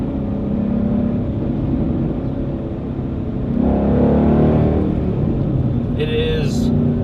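A Ford Mustang Boss 302 rumbles steadily while driving and swells briefly in the middle, all under someone talking over the engine, with a short high chirp near the end.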